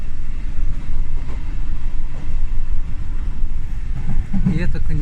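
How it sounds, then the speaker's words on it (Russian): An old train in Germany rumbles along the rails with a steady, loud low roar from inside the carriage and a faint rattle, continuous throughout. "когда мы едем по рельсам, даже слышно рельс так тык-тык"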